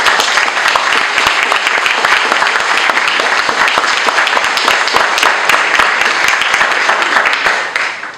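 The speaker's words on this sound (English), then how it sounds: "My fellow voters, I'm asking once again to give my fellow candidates a round of applause." Audience applause for the candidates at a WIPM party meeting in Windwardside, loud, dense, continuous clapping from a crowd lasting around eight seconds before tapering off at the end.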